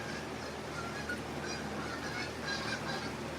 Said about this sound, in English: Here's a whole bunch of Canadian geese just went over.